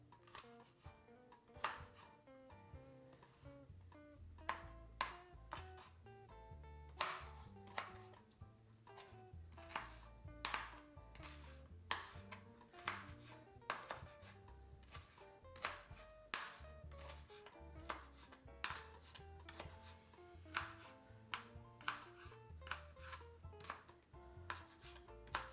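Onions are chopped for egg rolls with a long run of faint, quick knife strikes on a board, fairly regular in rhythm and heard alone at low volume.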